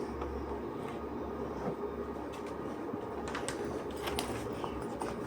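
A train runs along, heard from inside as a quiet, steady low rumble with faint rattles and scattered clicks throughout.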